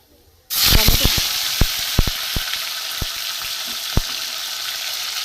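Cumin seeds hit hot oil with a bay leaf in the pan for a vegetarian cabbage curry, bursting into a sudden loud sizzle after a quiet moment, then a sustained hiss punctuated by sharp crackling pops.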